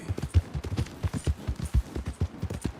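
Horse hooves clip-clopping in Red Dead Redemption 2, a steady run of close, moderately loud hoof thuds with a faint background bed and no voices.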